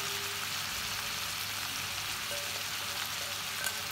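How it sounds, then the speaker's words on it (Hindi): Leftover masala is poured over tandoori chicken as it sizzles in the pan, producing a steady, close frying hiss and crackle that holds at an even level the whole way through with no talking. "अब मैं इसके ऊपर वो जो मसाला बचा था वो डालूंगी।"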